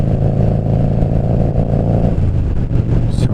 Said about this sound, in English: Enjoy the beautiful sound of the competition exhaust.